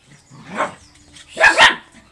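A dog named Kevin, angry, lets out a few close, loud barks: a single bark, then a quick double bark after a short pause.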